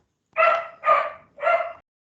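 A dog gives three clear, evenly spaced barks, close by and fairly loud, with silence between and after them.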